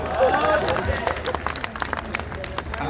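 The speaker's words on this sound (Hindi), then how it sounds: "ताली बजाइए हाथ उठा के जोरदार।" A large crowd at an outdoor fair poetry gathering in Lakhimpur Kheri claps loudly and steadily, the close, busy patter mixed with crowd murmur and voices.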